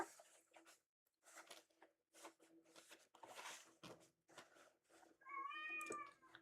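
A male cat yells loudly indoors in a run of repeated meows, the loudest cry near the end, with only brief pauses between calls.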